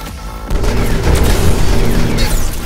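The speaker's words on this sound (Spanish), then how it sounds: "Sí, ya estoy viendo que me disparan" Gunfire from a rifleman enemy in the Final Fantasy XV Episode Prompto DLC, a dense run of booming shots and blasts that begins abruptly after a quiet half second and continues loud and steady throughout.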